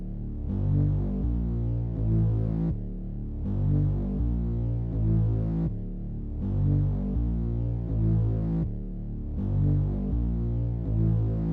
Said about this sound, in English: I obviously have this growler Moog bass from Omnisphere